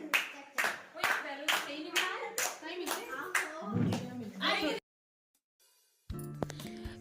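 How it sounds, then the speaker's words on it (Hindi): Children and adults clap in rhythmic bursts at a child's home birthday party, loud and close, with voices mixed in. The clapping stops abruptly, and after a short silence a different sound with steady tones comes in. "इनकी तो तालियों की गजब गरज"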